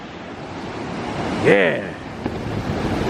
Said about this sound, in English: Man, these waves are rolling in.